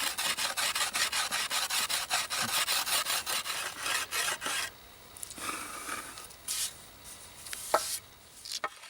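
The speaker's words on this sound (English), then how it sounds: "an abrasive stone can be used to return the wood to a smooth surface" An abrasive stone rubs over yew bow wood in steady rhythmic back-and-forth strokes, close and distinct, for about five seconds, followed by sparser, irregular scrapes and pauses.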